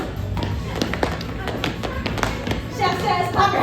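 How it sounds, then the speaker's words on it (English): Children tap and stomp their feet during a Simon Says–style game at a Cookie Monster pizza party, a scatter of close, irregular light thuds with kids' voices mixed in. "Chef Says, tap your toe."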